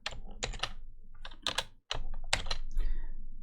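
Close, crisp keystrokes on a computer keyboard typing code, irregular clusters of clacks with a short pause midway, alone with no talk.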